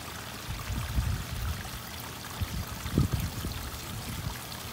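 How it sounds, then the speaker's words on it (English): Water gushes and trickles steadily as an RV black tank drains after being filled with rinse water, with a few louder splashy surges, close by and without talking. "washing out the black tank, filling it up, and then letting it all empty out"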